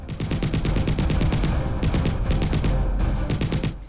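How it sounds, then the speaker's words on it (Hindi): Gunfire at night along the Line of Control near villages in Akhnoor, Jammu and Kashmir: rapid bursts of automatic shots in quick rhythmic volleys, close and loud, with short pauses between strings. "रात करीब 8:30 बजे गोली की आवाज ने सन्नाटे को चीर दिया"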